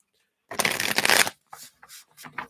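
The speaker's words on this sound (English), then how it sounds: "let's shuffle these up" A deck of tarot-style reading cards being shuffled, one quick riffle close to the ear followed by a few softer, shorter card flicks and slides, alone without talk.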